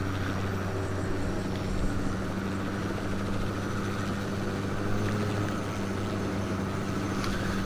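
Steady helicopter rotor and engine drone in Tom Clancy's Ghost Recon Wildlands, its rear thruster shaking rapidly; a continuous loud mechanical hum with throbbing low tones runs unbroken, without speech.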